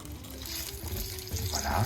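Potatoes fry in a pan seasoned with salt, pepper and a pinch of rosemary, a steady close sizzle with faint stirring under a speaking voice.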